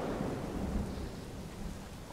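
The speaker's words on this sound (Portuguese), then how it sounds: "que tempestade chata" Steady rain and rumbling thunder from a storm in the survival video game Smalland, a continuous low roar with hiss on top and no voices over it.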